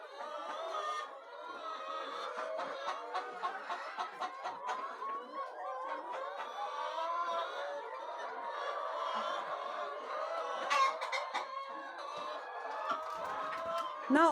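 Nervous hens on a poultry farm cluck and squawk restlessly in a continuous, busy chorus, with scattered sharper calls rising over the flock throughout.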